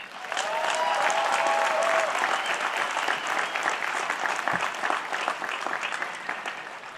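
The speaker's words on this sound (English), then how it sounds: "Please join me in applauding these great people who made this a reality." Steady, enthusiastic applause from a large crowd at a college commencement ceremony, sustained and loud throughout with no pauses.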